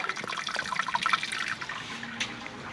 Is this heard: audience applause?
no